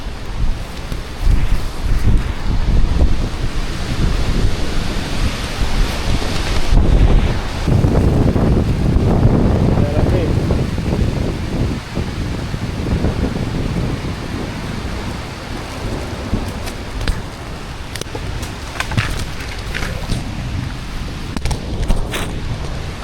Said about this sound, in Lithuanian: Vėjas tai konkretus.